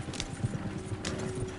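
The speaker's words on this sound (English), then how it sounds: "You're gonna lame these horses." Horses galloping in Red Dead Redemption 2, a rapid, muffled drumming of hooves on open ground, rolling continuously at moderate volume with a faint high tone in the background and no talking.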